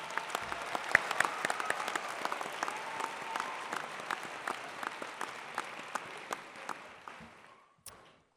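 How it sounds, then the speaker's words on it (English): A convocation ceremony audience applauds graduates with a long, even round of dense clapping from a sizable crowd, heard at a moderate distance and fading out at the end. "Let us take a moment to recognize them with a heartfelt round of applause"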